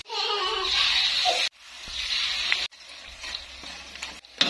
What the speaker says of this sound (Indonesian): lalu digoreng